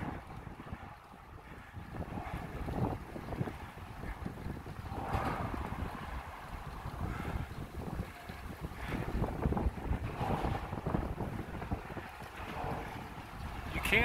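Wind gusts rush past on a bridge along the Shimanami Kaido route from Onomichi to Imabari, a continuous roaring buffet over the microphone that swells and eases, close and loud.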